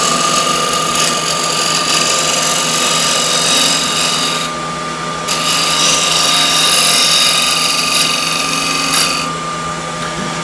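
A woodturning scraper's edge is honed on a refiner, giving a steady, loud, high whirring grind with a constant tone, broken by two short dips where the edge lifts away, with no talk.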